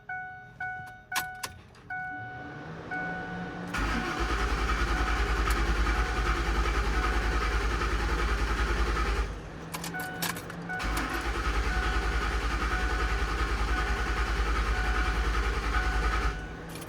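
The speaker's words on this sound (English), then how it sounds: "So I cranked the engine over a few times." A truck engine cranks over in two long stretches, a steady, loud rumbling drone that cuts out briefly in the middle, preceded by a few clicks and light metallic jingles.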